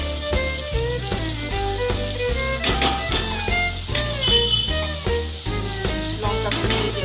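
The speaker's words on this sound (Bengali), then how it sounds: "ওই পেস্টটা দিয়ে দিলাম। এটা ভালো করে কষিয়ে নেব।" A spice paste for idli shakshuka fries in a pan with a steady, close crackling sizzle and intermittent stirring scrapes, continuous throughout.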